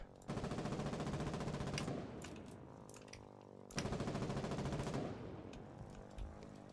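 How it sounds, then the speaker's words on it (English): Aircraft machine guns rattle in two long sustained bursts during a strafing run in a combat flight video game, dense and loud with a short lull between volleys. "Let's go and strafe. We'll just do a strafing run."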